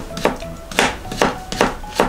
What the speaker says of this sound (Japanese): はい、ということで人参を切っていきます。